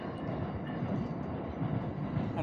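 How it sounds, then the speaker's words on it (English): Train rolling past a tiny island campsite in New York City, a steady distant rumble with low clatter filling the background throughout. "we got another train going by"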